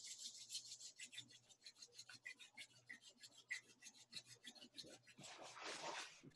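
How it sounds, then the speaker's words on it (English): Hands rubbed briskly together at heart center during a yoga session, making a fast, steady series of close, dry rasping strokes that swell into a denser friction rush near the end. "bring the hands to the heart center and rub them together"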